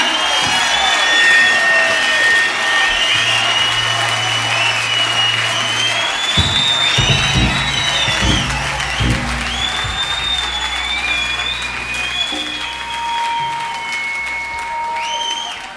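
Concert crowd applauding and cheering a band at a 1970 Boston show, a dense, sustained roar of clapping with shouts and whistles rising over it, and an announcer's voice heard above the crowd.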